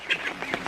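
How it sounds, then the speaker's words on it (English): A baby duck gives a couple of quick, reedy quacks and peeps up close, short and bright against faint background hiss. "Baby duck, hello, hello."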